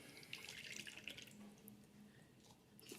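Water is poured from a tap into a mixing bowl in a home kitchen while making dough for savory snacks, a soft continuous splashing trickle, close and fairly quiet.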